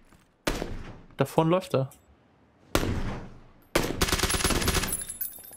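Gunfire in the battle royale game PlayerUnknown's Battlegrounds: sharp, loud bursts of shots in several separate volleys, the last a sustained rattling stretch, with people talking between them.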